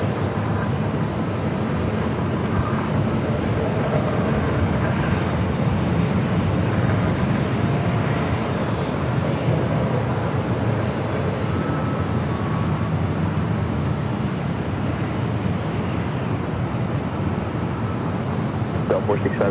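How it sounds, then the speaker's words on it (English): Embraer E-Jet airliner at LAX airport, a steady broad jet roar that holds evenly throughout, with radio and voice chatter over it. "we got that EJet up next"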